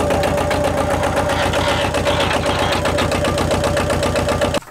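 A tractor engine idles steadily with a fast, even chugging pulse and a constant hum, loud and close, cutting off abruptly at the end.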